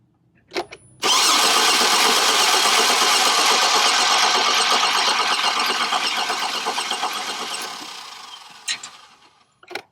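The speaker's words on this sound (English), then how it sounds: "Let's crank that again." After a couple of clicks, a 2006 Chevrolet Trailblazer with a hard-starting fault cranks and catches, its engine roaring loudly close by for several seconds before slowly fading, followed by a few faint clicks.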